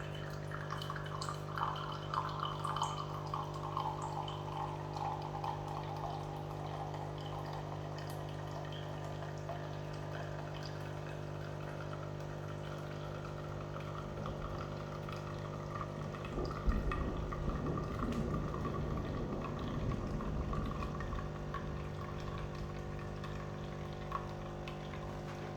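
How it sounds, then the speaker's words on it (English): An automatic coffee machine brews an XXL coffee, giving a steady low hum and pump drone with watery gurgling and trickling that swells near the end as liquid pours, alone and fairly close. "making the coffee."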